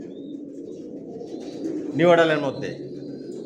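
Pigeons kept by a breeder coo in a low, continuous murmur, fairly quiet and steady, with someone briefly speaking over them partway through.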